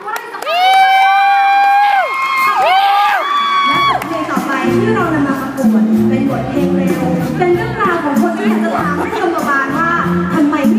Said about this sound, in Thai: ถ้าท่านผู้ชมถูกใจขอเสียงปรบมือเป็นกำลัง ใจ